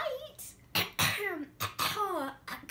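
A wolf character's voice imitates coughing up a grandmother in a read-aloud fairy tale, with several short, theatrical coughing bursts and gliding vocal sounds.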